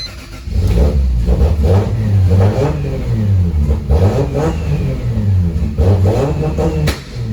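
A big-turbo Lexus GS300 engine revs up and down repeatedly and will not settle to idle, loud and close, with surging rises and dips throughout.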